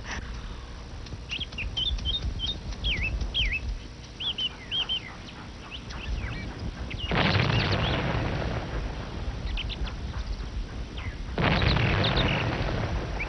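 Cannon fire in a cartoon riverside scene: two broad, loud booms, one near seven seconds and another near eleven, each rolling on for a few seconds over a bed of steady birdsong chirps.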